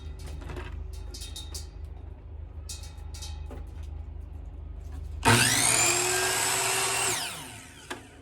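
A power tool saws through a wooden dowel, cutting it in half: a sudden loud, close whine with a pitch that sweeps as the blade bites, lasting about two seconds after faint workshop background noise, then fading out.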